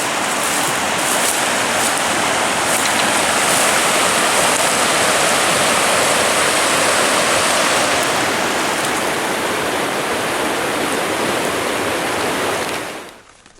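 A river flowing steadily in nesting season, a dense, continuous rush of water filling the whole span at even loudness before cutting off abruptly at the very end.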